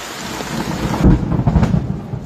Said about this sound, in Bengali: প্রচন্ড বৃষ্টি এবং বজ্রপাত